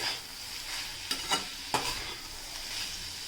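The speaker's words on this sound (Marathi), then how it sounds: "तर मीठसुद्धा चांगलं मिक्स करून घेऊयात" Salt being stirred into snake gourd (padwal) bhaji in a pan, giving a soft steady scraping with a few sharper spoon knocks over a faint sizzle.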